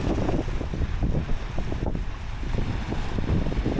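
Strong wind buffets the microphone in a loud, continuous, gusty roar on a wet, stormy day by the Seto Inland Sea at Okunoshima, with no voices present.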